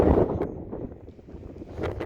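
Outdoor wind among rocks, low rumbling gusts buffeting the microphone in uneven bursts, fairly close and moderately loud for a couple of seconds.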